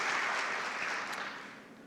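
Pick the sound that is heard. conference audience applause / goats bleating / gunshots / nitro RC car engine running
conference audience applause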